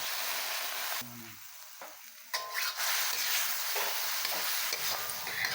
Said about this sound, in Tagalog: kapag luto na ang sibuyas at bawang, ilagay na natin ang minarinate natin na pusit